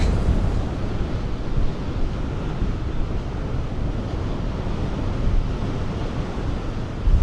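Strong wind buffets across the open deck of the Celebrity Apex cruise ship at sea on a stormy transatlantic crossing, a continuous loud low roar that rises and falls slightly, with no voices.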